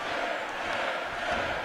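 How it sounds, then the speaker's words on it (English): A crowd in a WWE 2K14 wrestling game roars and chants for a wrestler named Zeb, a steady dense arena din with no break and no talk over it. "listen to the crowd shouting for Zeb"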